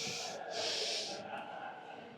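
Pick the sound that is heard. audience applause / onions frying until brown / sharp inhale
sharp inhale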